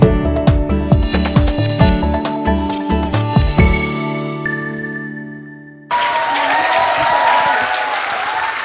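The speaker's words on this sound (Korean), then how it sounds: "큰 박수 부탁드릴게요" Brief bright musical chimes and rhythmic hits end in a ringing tone, then a hall audience bursts into steady applause to welcome a lecturer, a bestselling travel writer, at a public talk.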